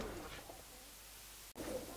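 Giribaj pigeons in a loft cooing: soft, low, murmuring calls close by in a short stretch, with a brief gap before the cooing resumes.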